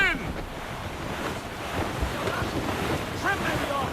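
Wind at sea in the video game Assassin's Creed Rogue, a steady rushing gust with waves washing against a sailing ship, with brief shouted voices over it.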